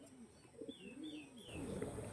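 Pigeons of an original Punjab-tagged breed coo in soft low rolling phrases, faint and fairly close, with light chirps and shuffling around them and no voices.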